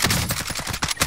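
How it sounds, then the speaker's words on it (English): A sentry gun in Warzone fires a loud, close, rapid string of evenly spaced shots in a tight mechanical rhythm lasting about a second. "Enemy sentry gun active."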